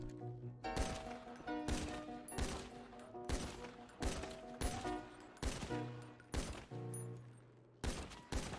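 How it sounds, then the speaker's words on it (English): Video game gunfire aimed at enemy heads: repeated loud gunshots in uneven bursts, roughly a dozen sharp cracks over several seconds, with no talking. "Start shooting again. Let's hit those heads."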